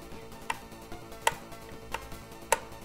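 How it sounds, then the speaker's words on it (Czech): A mechanical power switch on a 16-bit retro game console clicks four times at irregular intervals, each a short sharp snap that stands out clearly over a quiet background with no talking. "Máme tady opět mechanický přepínač napájení."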